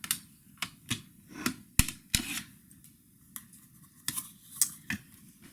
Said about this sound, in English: So now we need to measure this paper, and then we're going to cut it.